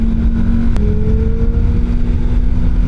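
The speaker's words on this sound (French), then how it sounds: "ça résonne dans la tête entre le moteur de la Ninja et de la Porsche" Engines of a Kawasaki Ninja 650 motorcycle and a Porsche 911 riding together, giving a steady, loud engine drone with a held tone and a brief pitch shift partway through.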